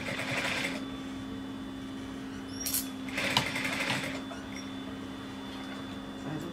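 A sewing machine stitches a box cushion cover, humming steadily at moderate volume with brief bursts of faster whirring motor noise near the start and middle, no voices.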